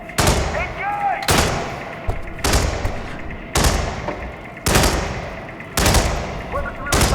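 Gunfire rings out in the Hitman (2016) video game as six or seven sharp, loud blasts, each with a decaying tail, roughly evenly spaced, while faint voices and other game sounds continue between the shots.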